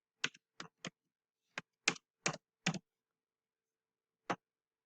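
Keystrokes on a computer keyboard while logging in to a website: short bursts of clicky taps in an uneven rhythm, close and clear, then a pause before one final press.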